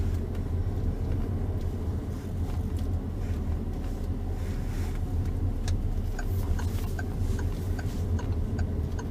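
Car engine during a driving test, a steady low hum rising as the vehicle accelerates on the road, with a regular ticking, likely the indicator, over it.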